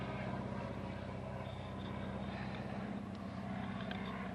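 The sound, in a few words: old biplane with radial engine flying overhead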